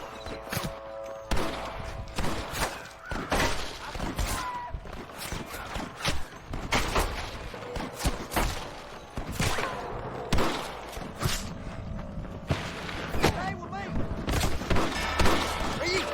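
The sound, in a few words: gunfire in video game Red Dead Redemption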